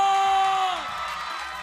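Studio audience on a TV variety show cheering and applauding for a band, a loud broad crowd roar with whoops that fades out as a sustained tone slides down beneath it.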